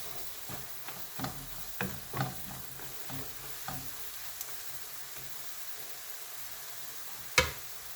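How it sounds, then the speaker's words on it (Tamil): Soft sizzling of chickpea masala sautéing in a pan with scattered stirring scrapes and clicks, moderately close, ending in one sharper clank; no talking. "ஒரு 2 மினிட்ஸ் இது சாட் ஆகட்டும்."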